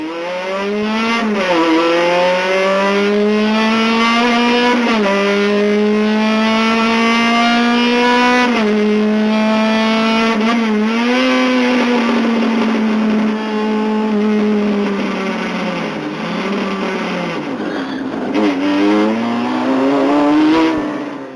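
Onboard a single-make race car at the start of a race: the engine screams loudly through repeated upshifts, each rising wail breaking off and climbing again, with other cars roaring close around it throughout.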